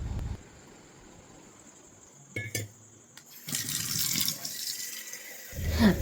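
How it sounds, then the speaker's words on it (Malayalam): Water is poured into a kindi, a traditional spouted metal vessel, for a Vishu ritual at home. After a quiet start with a brief clink, a close splashing pour runs for a couple of seconds and ends. "കിണ്ടിയിൽ കുറച്ച് വെള്ളം എടുത്ത് വെക്കണം"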